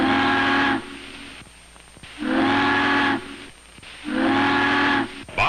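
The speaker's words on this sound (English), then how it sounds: "Bob listens for her to signal for the bridge. 3 long whistles." A large ship sounds three long, loud whistle blasts as a signal for a harbor lift bridge. Each steady, tonal blast lasts about a second and a half, separated by short gaps of background noise.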